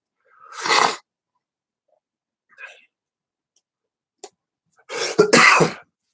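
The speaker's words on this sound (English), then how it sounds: "So you guys will hear me cough." A few separate coughs and throat-clearings break an otherwise silent room, close to the listener, ending in a harsher double cough.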